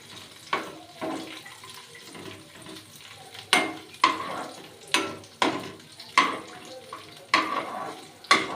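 Cashews and raisins frying in ghee in a pan, with a spoon stirring and scraping in regular close bursts about once a second over a soft sizzle.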